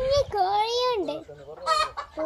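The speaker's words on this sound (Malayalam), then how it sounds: "കുഞ്ഞി കോഴിയുണ്ട്," Chickens cluck in a pen shared with ducks and chicks, giving a few close, warbling calls with short pauses between them.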